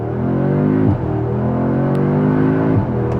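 A 2025 Audi S3 pulling hard off the line, its turbocharged engine rising steadily in pitch through the revs, with a brief dip at each gear shift before climbing again, heard from inside the car.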